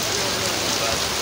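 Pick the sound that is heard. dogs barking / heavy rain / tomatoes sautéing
heavy rain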